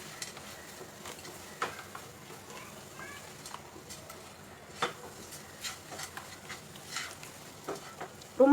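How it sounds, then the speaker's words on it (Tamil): Masala with Kashmiri chili powder sautés in a pan for peas paneer butter masala, a soft, fairly faint sizzle broken by scattered clicks and scrapes of a spoon against the pan, with a louder knock at the end. "இதுலேயே வந்து இன்னும் கொஞ்சம் நேரம் வதங்கட்டும்."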